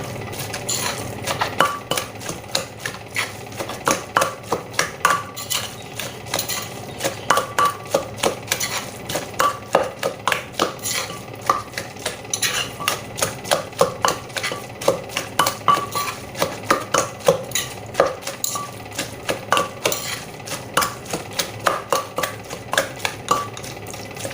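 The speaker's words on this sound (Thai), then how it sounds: "ก็ตำเลยน้ำเพื่อนตำให้เข้ากัน" Oyster mushroom salad is pounded in a mortar with a pestle, giving a long run of quick, rhythmic knocks and scrapes at a steady pace, close and fairly loud, with no speech.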